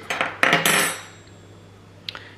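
Small metal clinks and knocks as drained canned chickpeas are tipped into a small blender in a home kitchen, a quick cluster of sharp hits followed by a fading ring and one faint later tap.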